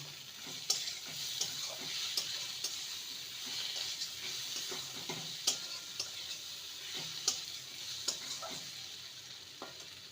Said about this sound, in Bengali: আর হাফ স্পুন ধনে গুঁড়ো লঙ্কা সামান্য দেব হাফ স্পুনের থেকেও কম ভালো করে কষিয়ে নেব